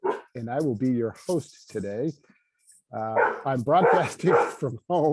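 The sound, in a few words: dog barking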